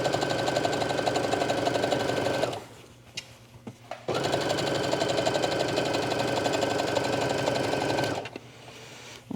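A sewing machine stitches yoga pants in two long steady runs of rapid, even motor whirring, broken by a short quiet pause while the fabric is adjusted; close and loud.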